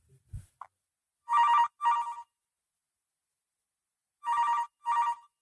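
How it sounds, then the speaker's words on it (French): A telephone rings after a number is dialed, with a few faint clicks first and then two pairs of ringing bursts separated by a pause, clear and close with no talking. "Allez, on appelle Jean-Pierre Foucault"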